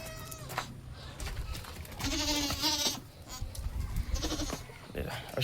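Goats bleat repeatedly at a livestock sale, their loud wavering calls overlapping nearby against a busy background, with people talking in between.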